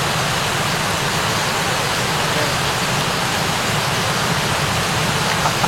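Heavy rain pours down steadily over an outdoor carp-fishing spot, a dense, loud, unbroken hiss with no pauses.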